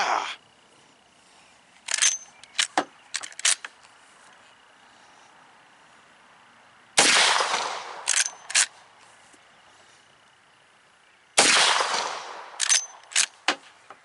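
Heavy .44 Magnum revolver shots boom nearby in separate volleys, each followed by a few quick sharper reports, with steady background hiss between bursts.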